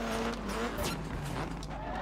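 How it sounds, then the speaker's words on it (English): A rally car in the Dirt 3 racing game slides around a corner on a tap of the handbrake, the engine droning steadily under a brief gritty skid in the middle, continuous and fairly quiet throughout. "Tap of the handbrake, that makes sense."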